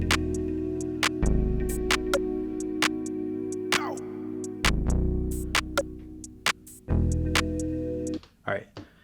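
A beat loop plays on a Maschine Plus for scene 1, with steady sustained bass and tonal layers under sharp recurring percussive hits that drop out and restart in sections before the pattern cuts off near the end.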